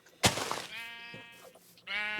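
Sheep bleat in a Minecraft-style video game on a small island, giving a sharp onset followed by two or three nasal bleats, close and fairly quiet, alone with no talking.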